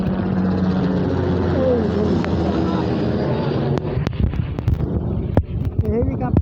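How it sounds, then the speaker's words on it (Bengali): A helicopter flies overhead near a park lake where boats travel, its loud, steady engine and rotor roar filling the whole stretch while voices talk over it and scattered clatters break in toward the end. "এখন হেলিকপ্টার আসবে"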